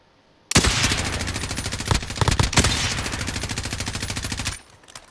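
Automatic gunfire in the Call of Duty Warzone shooter erupts abruptly after a moment of quiet, a loud, close rapid burst lasting about four seconds with a few sharper shots inside before cutting off.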